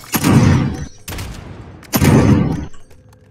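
Call of Duty Warzone gunfire: three loud, close bursts of rapid automatic fire, each lasting most of a second and separated by short pauses.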